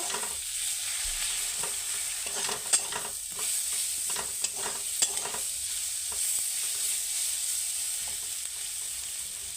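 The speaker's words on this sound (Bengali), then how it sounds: "মশলাটাকে ভালো করে কষিয়ে নেব" Masala with cumin, turmeric and coriander powder is sautéed in a pan, a steady sizzle broken by repeated scraping and stirring strokes of a spatula, with a few sharper clinks.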